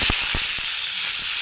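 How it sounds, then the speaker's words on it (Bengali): Water splashed into a hot wok hisses and sizzles loudly, a dense steady steam hiss with a few sharp crackling pops near the start and no voices. "এই যে কড়াইতে একটু পানি দিয়ে দিছি"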